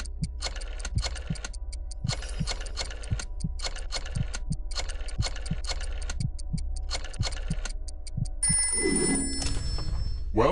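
A rotary telephone in a PS4 video game rings in repeated rapid metallic bell bursts separated by short pauses. A steady ticking pulse runs underneath, and a brighter tone swells in near the end.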